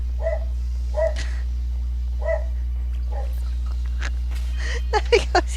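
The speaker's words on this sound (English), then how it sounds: "What are you barking at?" Stella the dog barks in short, separate bursts, about four of them and spaced a second or so apart, over a steady low hum from a riding mower. Sharper, higher sounds cluster near the end.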